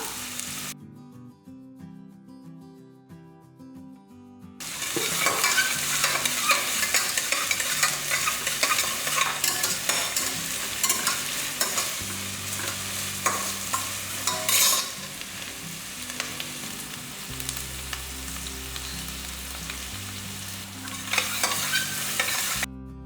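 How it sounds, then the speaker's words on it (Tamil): Two large sliced onions fry in a pan, stirred now and then. After a quiet opening, a steady, close sizzle sets in with scraping stirs, and no one speaks. "ரெண்டு பெரிய வெங்காயம் கட் பண்ணி வச்சுருக்கேன் இதை சேர்த்துக்கலாம் இதை வதங்கும் போதே"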